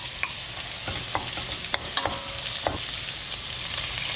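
Prawns frying with garlic and chopped onion in a deep pan, a steady broadband sizzle with scattered clicks of a utensil stirring and scraping throughout, no voices.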